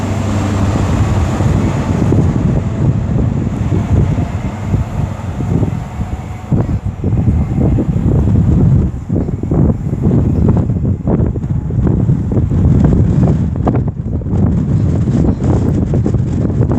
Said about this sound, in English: Again, apologies for the wind.